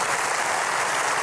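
A studio audience applauds at the German late-night comedy show NEO MAGAZIN ROYALE, a dense, even wash of clapping filling the whole moment without pause.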